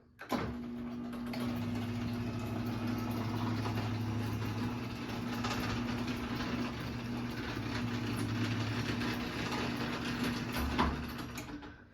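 An Overhead Door Phantom 777CD garage door opener runs after a wall-button press, giving a steady, quiet motor hum with a low drone throughout and a small clunk near the end as it stops.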